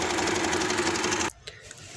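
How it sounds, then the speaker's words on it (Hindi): Sewing machine stitching fabric for a party-wear maxi frock, a fast close mechanical whirr that runs for over a second then stops, followed by a couple of faint clicks. "सिलाई लगा के फिर मैं आपको दिखाती हूँ।"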